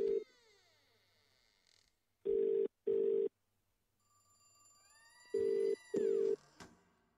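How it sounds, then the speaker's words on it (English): A phone call placed in the horror adventure game The Cat Lady: four loud, even rings of a ringback tone in two pairs, with rising electronic whistles and a low hum between them, and no speech. "Phone, make a call."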